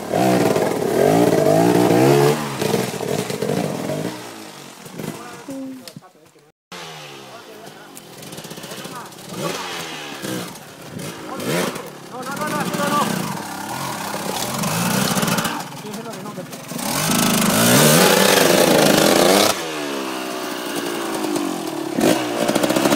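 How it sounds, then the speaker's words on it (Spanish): A KTM motorcycle engine roars and revs hard at close range, with loud surging throttle blips, a brief cut, then sustained high revving; voices talk over it at times. "¡Cómo ruge la KTM!"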